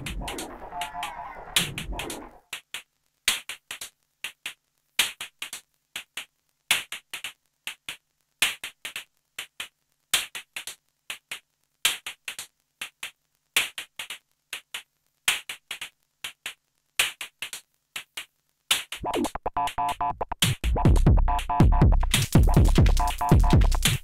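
Sharp, dry electronic drum hits from a Soma Pulsar 23 analog drum synthesizer repeat in a steady sparse pattern, each with a bandpass-filtered, swept tone, building into a dense loud burst at the end.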